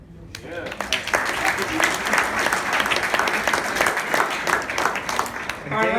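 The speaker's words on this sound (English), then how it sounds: "let's give a big round of applause to our guests" Loud, sustained applause from an audience welcoming guests at a UCLA Bruin Basketball Bash, dense clapping and crowd noise filling the whole stretch, with some voices mixed in.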